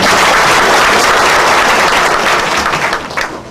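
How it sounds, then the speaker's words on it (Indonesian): Church audience applauding the band and singers, a loud, dense, continuous roar of many hands clapping that holds steady and then begins to thin slightly toward the end. "Kita beri tepuk tangan untuk band dan singers."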